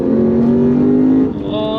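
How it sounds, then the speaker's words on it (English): A Lexus RC F 5.0-litre V8 engine revs in a steady, loud, tonal drone that holds for over a second and then drops as the pitch shifts, close and alone. "the V8 makes me smile each and every time when I step down the put my foot down the accelerator, or when I downshift"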